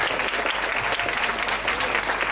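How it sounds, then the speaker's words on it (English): Audience applause at a PechaKucha Night presentation event in Ubud, Bali, steady and dense clapping from a room of people throughout, fairly loud and continuous. "give applause everyone for Gabby."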